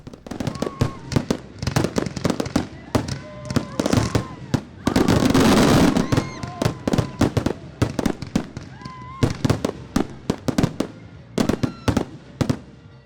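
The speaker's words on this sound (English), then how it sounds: "The evening came to an end just after sunset with an impressive fireworks display." A fireworks display after sunset at a ballfield grand opening, with dense rapid bangs and crackles throughout and a thick sustained burst of crackling in the middle, loud and close. Crowd voices are mixed in.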